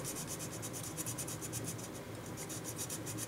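Sandpaper scrapes over the plastic body of a Tamiya Austin Mini Cooper model kit in fast, rhythmic strokes, a quiet close-up rasping that repeats evenly throughout.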